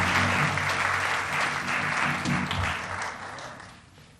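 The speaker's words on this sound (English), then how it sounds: "I'd like to invite and have a round of applause for Dr." An audience at an honoring ceremony applauds as a guest comes up, dense clapping from many people that stays strong and then gradually fades toward the end.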